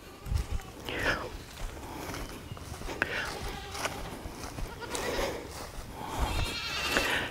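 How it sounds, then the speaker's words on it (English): A baby goat named Tiny bleats in a front yard, several short calls scattered across the clip alongside footsteps and soft close human voices talking. "You're going to scare my little baby goat."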